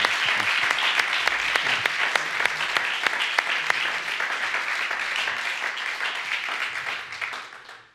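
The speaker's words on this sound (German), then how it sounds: "Für da nochmal ganz einen herzlichen Applaus und einen herzlichen Dank." Audience applause after a farewell concert, a dense crowd of claps with some sharp individual hand strikes standing out, holding steady before fading out at the end.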